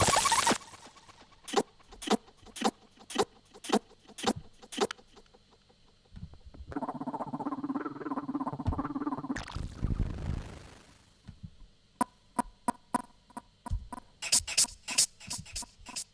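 Glitchy electronic noises from the free Fracture plugin: sharp stuttering clicks and bursts in a choppy rhythm, a buzzy sustained texture in the middle, and a dense flurry of rapid clicks at the end, with no voices.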